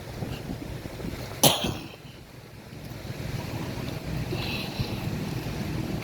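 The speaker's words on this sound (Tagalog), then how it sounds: "Pero malakas yung alon." Strong ocean waves washing onto the shore at low tide on a Dumaguete walk, a continuous surf roar with wind buffeting the microphone and one sharp gust or splash early on; no talking.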